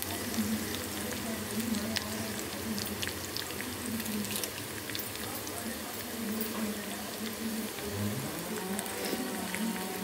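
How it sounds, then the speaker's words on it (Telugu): Lentils and cashew nuts fry in hot oil as a tempering for pongal, a continuous close crackling sizzle with scattered sharp pops, while a low hum runs beneath. "చక్కగా వేగాలండి పప్పులన్నీ, వేగితేనే రుచి"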